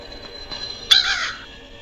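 An attacking crow in the horror video game Granny gives a single sharp, raspy caw that rises suddenly and fades within a fraction of a second against a quiet background.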